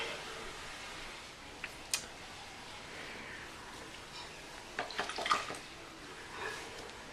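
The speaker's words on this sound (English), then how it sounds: "Get some water in there." Paintbrush swishing and dabbing in a water pot during painting, faint wet sloshes and light taps scattered over quiet room tone, a small cluster of splashy strokes near the end.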